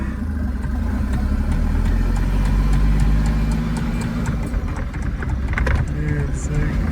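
Mercedes 380SL roadster with a swapped turbo diesel OM603 engine on the road, a loud continuous low engine drone with rattly diesel clatter throughout, while people talk over it.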